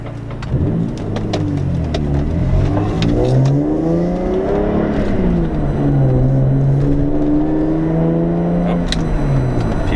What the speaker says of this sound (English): Watching on the side of the road as my hoopty drives by.